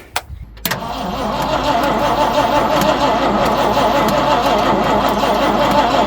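A car engine fitted with a cheap Amazon carburetor being cranked: a brief burst, a pause, then a steady loud engine drone running close by, with a voice briefly present.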